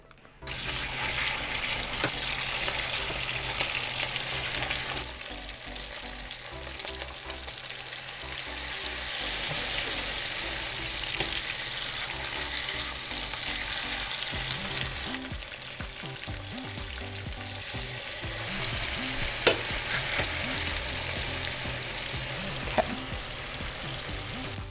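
Meat frying in oil during a second round of browning for Filipino adobo, a dense, even sizzle running throughout, close and steady, with occasional clinks and surges of spitting oil and no talking.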